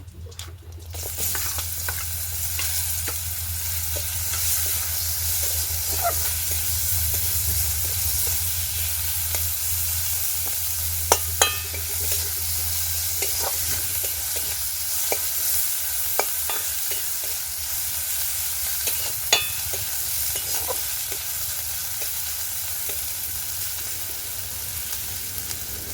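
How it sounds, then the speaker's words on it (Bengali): Chopped onions with bay leaf fry steadily in hot oil in a pan, a continuous close sizzle broken by scattered scraping clicks of a spoon stirring, no voices. "পেঁয়াজগুলো ভালো করে ভেজে নেব"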